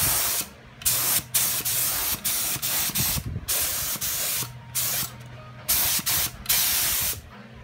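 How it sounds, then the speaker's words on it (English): Primer spraying from a spray gun during auto bodywork, a series of short hissing bursts with brief pauses between passes, close and loud, with a low hum underneath. "Now when you spray primer thick, you need to freaking be careful and let that stuff dry."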